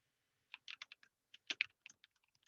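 Quiet, close clicks of typing on a computer keyboard, a short uneven burst of keystrokes with small pauses between clusters, no voices.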